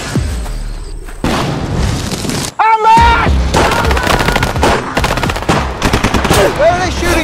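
Gunfire and explosions in a shooter video game: heavy booms and rapid machine-gun bursts fill nearly the whole stretch, loud and dense, with a short quiet gap before the firing resumes.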